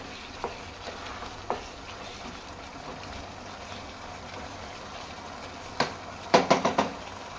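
Chicken sukkha mixed and stirred in a pan while frying, a low steady sizzle under a series of scraping clatters that bunch into quick knocks near the end, with no voices.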